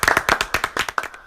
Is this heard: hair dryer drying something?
no